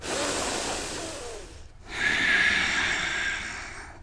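Heavy, forceful breathing during a yoga pose in a studio flow class, with a sharp nasal snort-like exhale, a brief pause, then a long loud rushing breath, close and alone.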